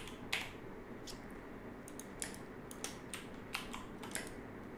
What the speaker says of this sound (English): So we'll just come in here and type in.